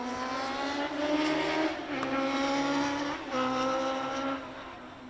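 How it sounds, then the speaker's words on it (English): Motorbikes pass along a road beside a cricket ground, a continuous engine drone with rising and falling pitch sweeping by at moderate distance, with two swells as machines go past. "Motorbikes pinging down the road alongside the ground."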